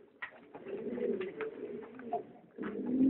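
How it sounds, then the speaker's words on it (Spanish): A Deportivo Jerezana pigeon cooing close by in low, rolling, repeated coos with short pauses between phrases. "Esta es una paloma del pollo que es Deportivo Jerezana."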